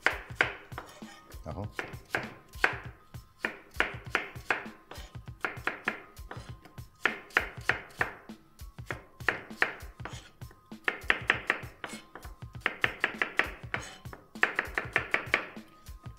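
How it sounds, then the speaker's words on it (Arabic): Apple is chopped into small pieces on a board for an Italian apple cake, a close run of quick, crisp knife taps in rhythmic bursts with short pauses, and a brief spoken word. "اعمل القطعة تبقى باينة بالصغير مش كبيرة قوي"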